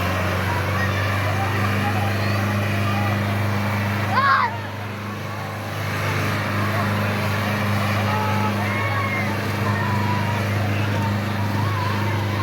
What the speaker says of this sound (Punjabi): ਫੀਅਟ 640 2023 ਮਾਡਲ ਪਹਿਲੇ ਰਾਊਂਡ ਤੇ ਜਾ ਰਿਹਾ ਟਰੈਕਟਰ